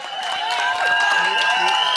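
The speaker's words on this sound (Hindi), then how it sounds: "जोरदार तालियां राजपाल यादव जी के लिए" A crowd applauds as actor Rajpal Yadav is called up at a film trailer launch event, clapping and cheering blended with music and voices in a brief, steady burst.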